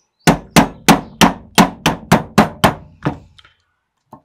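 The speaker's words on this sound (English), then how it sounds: "We're going to take our non-marring hammer." Tapping a rear sight off a Winchester 94 rifle with a non-marring hammer: about ten sharp, evenly spaced metallic taps, close and loud, tapering off at the end with no talking.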